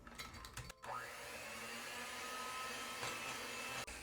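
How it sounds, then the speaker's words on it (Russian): An electric hand mixer whips egg yolks with sugar for a cherry marbled loaf cake batter, a steady continuous motor whir running close and unbroken after a brief start, with no talking. "К желткам добавляем сахар оставшийся и взбиваем до объединения массы"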